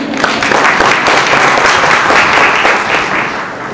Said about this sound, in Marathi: मला वाटतं टाळ्या सुद्धा त्याचा पडल्या पाहिजे.